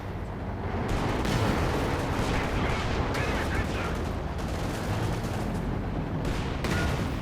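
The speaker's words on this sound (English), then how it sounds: "M10's firing away there." An M10 tank destroyer fires in the video game Company of Heroes 2 amid a dense battle din of gunfire and artillery-like blasts, loud and continuous across the whole stretch with no speech.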